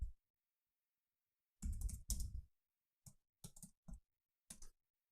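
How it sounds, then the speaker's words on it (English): Typing on a computer keyboard comes in several short bursts of close, crisp key clicks separated by silent pauses, with no talk. "I'll just type in"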